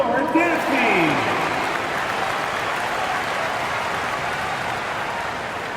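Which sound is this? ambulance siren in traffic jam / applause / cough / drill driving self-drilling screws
applause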